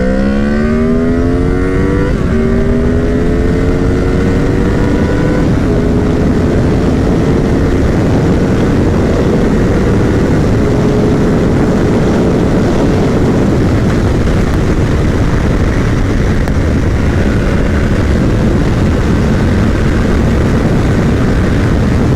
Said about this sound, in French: On notera aussi à 6000 tours le changement de son du moteur.